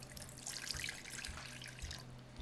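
Warm water runs in a steady trickle into a measuring cup, a soft continuous splashing pour heard up close and alone.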